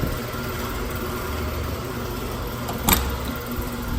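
A 1990 two-door Range Rover's engine runs with a steady, low idling rumble throughout, broken by one brief click near the end.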